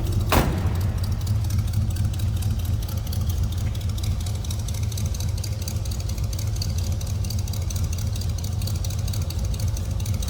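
A 1964 Chevrolet Impala SS two-door hardtop with a 4-speed manual sits idling in a steady, continuous rumble. A brief sharp knock sounds at the start, then the low engine drone holds at an even level throughout.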